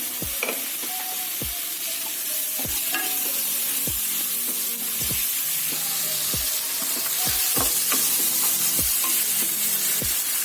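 Garlic and onion sauté in a hot pan, a steady sizzle and fry running throughout with regular sharp scrapes and stirs of a spatula roughly every half second to second, close and fairly loud, with no talking.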